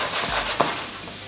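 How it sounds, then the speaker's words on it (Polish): Sliced onion and garlic sizzle in a hot pan while being stirred during sautéing, a dense close crackle with a quick scrape of the spatula midway. "trzy ząbki czosnku i teraz to wszystko muszę sobie tutaj zeszklić"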